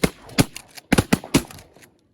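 Shotgun blasts fired at geese over water while goose hunting, with about six sharp, loud reports in quick irregular succession, some nearly overlapping, each fading quickly into open air.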